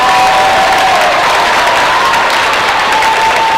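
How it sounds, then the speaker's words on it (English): Loud, sustained applause at a school Pink Out celebration as a crowd claps steadily for honorees, with light cheering mixed in and no break across the span. "One more big round of applause for Peggy Welch and for Mrs."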